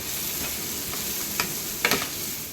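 Pav bhaji masala mixture stirred in a pan, a steady frying sizzle broken by a few scraping strokes and clinks of a spoon near the end.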